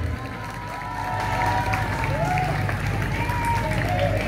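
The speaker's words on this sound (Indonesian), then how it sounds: "Kita berikan aplaus, tepuk tangan yang meriah untuk Kabupaten Rembang" A crowd applauds and cheers for the Rembang Regency delegation at a provincial Porsadin championship trophy ceremony, a broad steady roar of clapping swelling after the first second with scattered voices mixed in.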